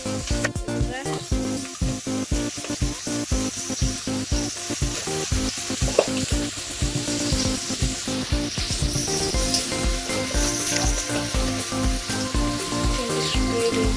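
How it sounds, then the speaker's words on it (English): Broccoli frying in a red pan gives a steady, close sizzle with rapid crackles and scraping stirs running throughout, with faint voices underneath. "Some broccoli in the pan, in the red pan."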